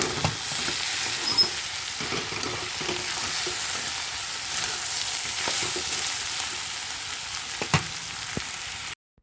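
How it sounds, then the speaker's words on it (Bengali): Potatoes fry in a pan with a steady, close sizzle and faint stirring scrapes throughout, with no talking. "আলু ভাজা হয়ে গেছে"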